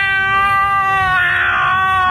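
A cat meowing at a window at night, around 3 a.m.: one long, loud, drawn-out wailing meow, close and alone, its pitch swelling in the middle before easing off.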